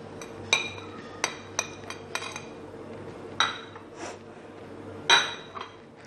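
Chicken is mixed with yogurt and tikka masala in a bowl, with scattered sharp clinks of a spoon against the bowl and soft squelching movements in between.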